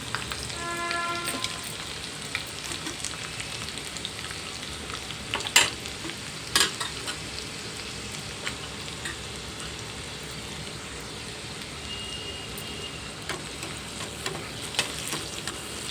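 Cumin and mustard seeds frying in hot oil for Andhra gongura pickle, a steady close sizzle with scattered pops and crackles, including a few sharper bursts partway through, with no talking.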